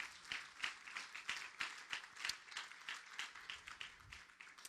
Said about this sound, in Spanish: Den un aplauso al Señor porque la gloria es para Él